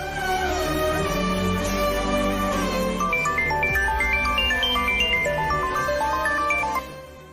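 A phone ringtone melody plays as a call is placed in a Telugu TV serial scene, with bright chiming notes rising over steady background music and fading out near the end. No voices are heard.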